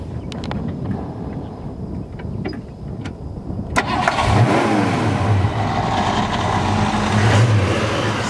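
A 1968 Ford Mustang convertible with a 289 V8 cranks briefly, then catches and fires into a loud, rumbling idle that stays close and steady to the end.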